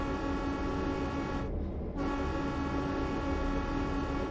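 A Santa Fe F7 locomotive horn in Train Sim World 3 blares in two long, loud honks with a brief gap between them, over a low rumbling engine.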